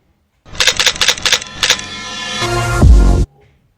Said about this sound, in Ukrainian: саме фотки іде звук фотоапарата